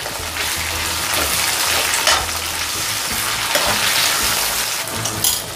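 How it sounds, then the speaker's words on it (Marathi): Tomatoes sautéing in a pan hiss loudly and steadily up close, with the scrape and swish of stirring surging at intervals. "टोमॅटो आता नरम होईपर्यंत परतून घेणार आहे"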